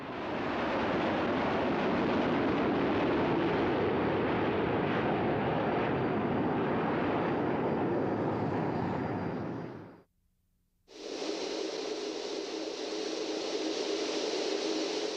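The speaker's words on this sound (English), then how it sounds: "It was soon phased out in favor of a larger aircraft, the Boeing B-52." Jet engines of a Boeing B-52 bomber give off a loud, continuous roaring drone. It cuts out briefly and then resumes as a thinner, higher whine.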